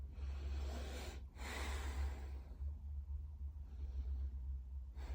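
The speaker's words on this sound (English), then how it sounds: "Breathe all the way from your nose to the bottom of your stomach." Slow, deep breathing drawn in through the nose, a long airy inhale followed by a softer exhale, close and breathy over a low steady rumble, with no speech.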